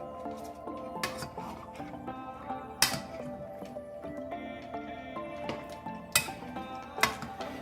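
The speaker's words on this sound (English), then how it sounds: "You're just going to kind of stir it all together" Sicilian cucuzza soup stirred in a pot, with a spoon scraping and clinking against the metal in irregular knocks, some sharper taps standing out, close and moderately loud.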